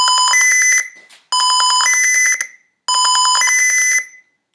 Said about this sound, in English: the piezo is emitting the beep when the LED is covered